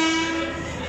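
A passenger train's horn sounds as one loud, sustained tonal blast with strong harmonics while waiting at a station in Pakistan on the Multan to Rawalpindi route, steady throughout with no talk.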